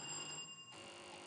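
A contestant's quiz buzzer at a National Science and Maths Quiz preliminary contest in a studio sounds as one steady electronic tone that holds for under a second and then cuts off, faint and alone.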